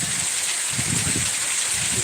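Heavy monsoon rain pours down steadily, a dense, even hiss of water close by with no pauses, running water faintly beneath it.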